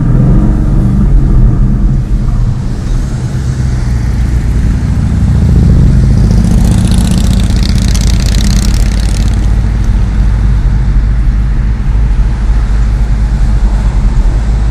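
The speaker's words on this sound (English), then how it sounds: "hear the exhaust, Frank?" A 2013 Ford Mustang Boss 302 with a 444 hp 5.0-liter V8 idles with a deep, steady exhaust rumble close by, swelling briefly louder partway through before settling back to a constant throaty drone.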